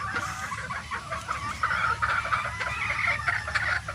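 Hens and pullets clucking at a game farm, a loud close chorus of overlapping clucks and chatter from a flock of around a hundred birds, with no talk over it.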